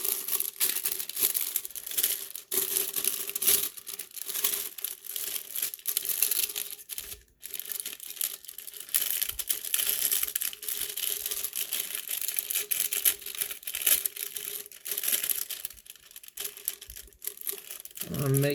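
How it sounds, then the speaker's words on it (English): A sublimation shrink bag is slid down over a tumbler, producing close, continuous plastic crinkling and rustling with sharp crackles, with no talk. "Now I'm going to take my shrink bag. I'm going to put it over my cup."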